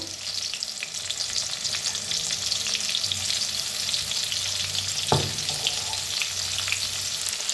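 Crushed garlic and salt roasting in a hot pan for a fenugreek dish, a steady loud sizzle with light stirring scrapes and one sharp clink of utensil on pan.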